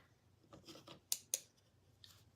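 Two quick sharp hisses of a 4-in-1 setting spray misting onto a face, close by, between soft rustling handling sounds.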